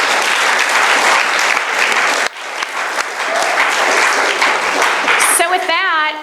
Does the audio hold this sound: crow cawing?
no